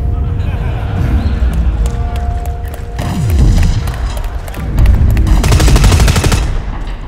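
A heavy machine gun in the shooter game Dust 514 fires a dense, rapid, loud burst near the end, after mechanical clanks and movement, with people talking over it.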